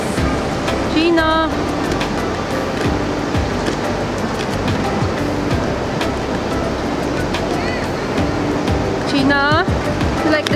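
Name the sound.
ocean waves on a beach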